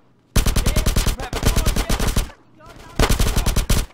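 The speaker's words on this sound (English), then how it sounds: "Get some suppressing fire in there." Rapid automatic gunfire in GTA San Andreas, loud and close, in three sustained bursts of rattling shots separated by brief pauses.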